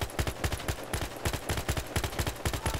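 Rapid bursts of automatic gunfire from a weapon in Battlefield Hardline multiplayer, loud, close, sharp shots in quick repeated volleys with no talking.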